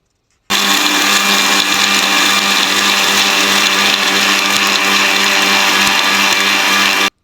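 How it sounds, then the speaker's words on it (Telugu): A mixer grinder grinding curry masala spices in a jar starts abruptly and whirs loudly and continuously for several seconds at close range, then stops suddenly. "ఇంకా చల్లగా అయినాక నేను మిక్సీ జార్లో వేసి మిక్సీ పట్టుకుంటున్నాను"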